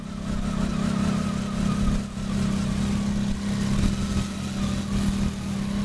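A rear-engined race car pulls away and accelerates hard, its engine a loud, continuous buzzing roar with a slight dip in pitch as it shifts, sustained close by throughout.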